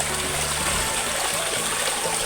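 Water gushing along a stream in Barangay Sugod, Lopez, Quezon: a steady, close rushing wash with no breaks and no voices.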